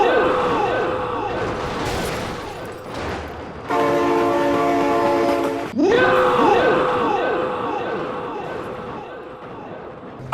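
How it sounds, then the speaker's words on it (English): In the BeamNG driving game, a train rumbles past with a loud, sustained horn blast midway, among clattering and sliding game sounds, while someone shouts excitedly over it. "Oh my god, train!"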